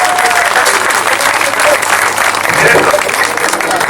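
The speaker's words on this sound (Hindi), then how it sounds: "जोरदार तालियां हो जाए इन बच्चियों के लिए।" Loud, dense audience applause for young performers at a staged Ramayan show, continuous clapping and crowd noise filling the whole stretch with no let-up.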